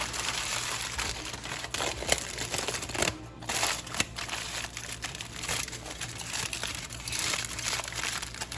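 Aluminium foil crinkles and crumples steadily while being wrapped around a fish in a home kitchen, a continuous close, loud rustle with a brief pause.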